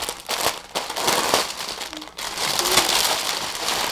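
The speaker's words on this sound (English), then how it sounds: "Pardon the crinkling here." A plastic bag crinkles and rustles continuously, close and fairly loud, as skeins of yarn are pulled out of it, with a brief pause around the middle.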